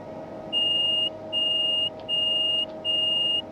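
Guard buzzer in a Class 390 train cab in Train Sim 2020: four identical electronic buzzes, each about half a second, evenly spaced over a low steady cab hum.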